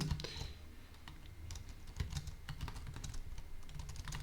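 Fast, irregular clicking of keys typed on a computer keyboard, close and fairly quiet, continuing steadily with no talking.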